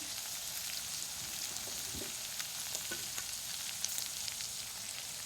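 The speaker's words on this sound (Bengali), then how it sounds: "আলু আর বিনস ভাজতে ভাজতে আমি এবার ক্যারটটা দিয়ে দিচ্ছি" Potato, green beans and carrot fry together in a pan, giving a faint, steady sizzle with light crackles and no talking.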